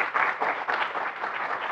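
Audience applause at the start of an introductory quantum information lecture at a 2022 conference, a short burst of steady clapping from a room of listeners.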